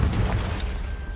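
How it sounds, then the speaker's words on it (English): A deep, booming blast from a Confringo spell in Hogwarts Legacy, with a rumbling low-end tail, loud and close, lasting about a second with no voices. "Explosions!"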